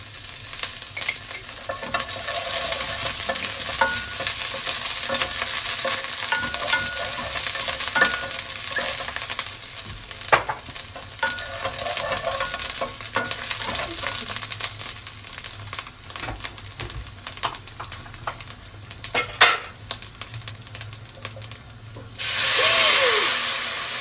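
Garlic frying in butter or ghee for a lentil dish, with steady close sizzling and repeated scraping stirs throughout and a louder hissing burst near the end.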